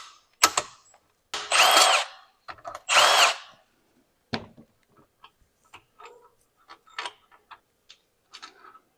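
Power tool zipping out a bolt during a Yamaha YZ450F dirt bike rebuild, with two loud sustained bursts followed by scattered clicks and small tool taps, close and with no talk.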